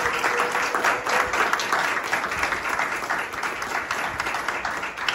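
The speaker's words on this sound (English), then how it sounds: "Can we give them one more round of applause?" An audience at a spring piano recital breaks into a round of applause, close, full and sustained clapping from many hands that holds steady before easing slightly at the end.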